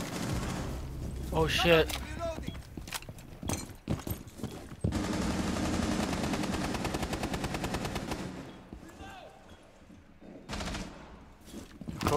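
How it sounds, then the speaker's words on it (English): Rapid automatic gunfire in Rainbow Six Siege, dense sustained bursts with scattered single shots and echoing impacts, loud and close, with a player briefly talking over it. "they're shooting at me"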